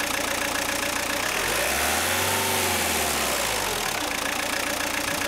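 A car engine idles, then revs up in one smooth rise and falls back to idle, loud and close.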